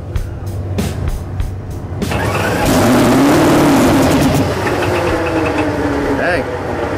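A fuel altered drag car at Ben Bruce Memorial Raceway cranks over with a few rapid pulses, then fires into a loud, rough, sustained rev that fills the air, with people talking nearby.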